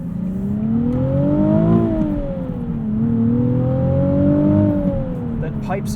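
A 2020 Nissan 370Z Nismo with a six-speed manual is driven, its engine droning loudly from inside the cabin. The pitch rises and falls with each gear change across two pulls.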